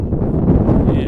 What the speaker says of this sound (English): wind gust close to 40 miles an hour here this afternoon